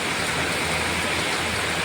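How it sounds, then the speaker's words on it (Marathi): Heavy rain pours steadily, a dense, continuous hiss of water striking surfaces with no pauses and no voices. "पाऊस वगैरे किती जोरात पडतोय आपल्या इथे"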